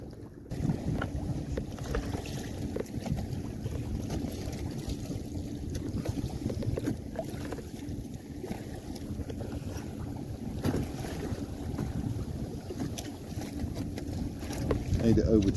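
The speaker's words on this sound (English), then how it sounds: "It's a little bit windy, which is ideal for sailing." Steady wind noise and water rushing past a sailing canoe on Plymouth Sound on a breezy, sunny day, a continuous loud broadband rumble across the whole stretch with occasional gusts buffeting the microphone.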